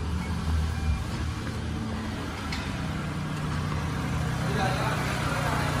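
An automatic 2008 Toyota Camry 2.4G has its engine running at idle with a low, steady rumble. The hum stays even throughout, with a voice talking nearby over it.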